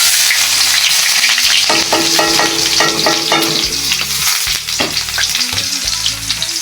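Last night's catch of fish frying and being stirred in a hot pan, with a steady broadband sizzle throughout, broken by clattering utensil scrapes and taps, loud and close, with no talking.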